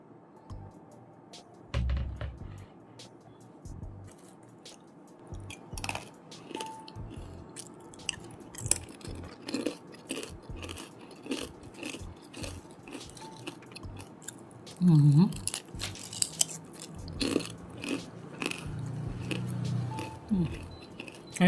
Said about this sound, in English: Can you hear that crunchy sound?